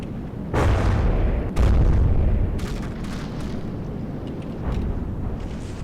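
Deep booms and crackling blasts burst out in quick succession in a From the Depths naval battle game, a couple of heavy explosions in a ship's bow followed by rumbling, smaller pops.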